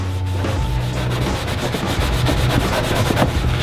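A graffiti mop rubbed back and forth over painted metal, giving a continuous, loud, close scrubbing rasp with a rapid repeating rhythm and no pauses.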